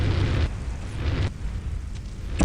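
A flamethrower in the video game GTA San Andreas roars in bursts of rushing, crackling fire, with short gaps between the blasts.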